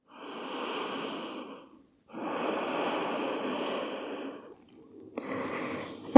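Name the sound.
deep breathing during yoga meditation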